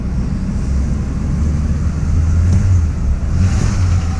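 A pickup truck's engine revs hard as it pulls away on a test drive, a loud, steady low rumble that swells near the middle and again toward the end, with no talking over it.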